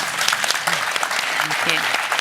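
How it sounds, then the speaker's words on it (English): Audience applause at the closing plenary of an AI safety summit, a brief dense wash of clapping with a voice talking over it. "Everybody give a round of applause for our panel."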